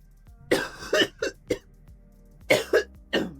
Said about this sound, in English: Use this chance to deal with my cough.